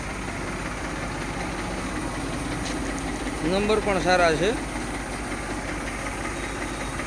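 An Eicher 333 tractor, a 2009–10 model in fresh, fault-free condition, idles with a steady low engine rumble throughout, while someone talks over it close by.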